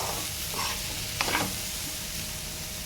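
Onions fry in oil for chicken curry, giving a soft, steady sizzle close by, with a couple of brief stirring scrapes partway through.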